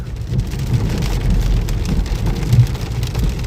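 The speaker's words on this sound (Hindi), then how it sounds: "लेकिन ओले भयंकर पड़ रहे हैं" Heavy hail pelting a car on a road trip from Delhi toward Vaishno Devi, a dense, steady drumming roar of ice on the body and roof, loud and continuous with a few harder bursts, no talking.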